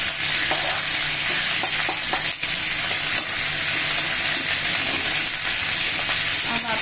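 Mustard seeds and cumin sizzle in hot tempering oil, a steady dense crackle and hiss with faint stirring scrapes, close and continuous throughout.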